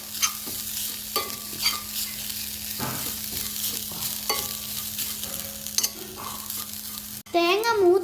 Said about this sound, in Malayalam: ഇത് നമുക്കത് ഇളക്കി കൊടുക്കാം. ഇത് നമുക്ക് നല്ലപോലെ മൂപ്പിച്ചെടുക്കാം.